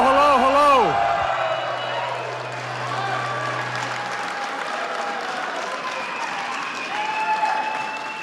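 An audience at a live comedy show claps and applauds steadily after a man's spoken line at the start, the crowd noise sustained and fairly loud throughout.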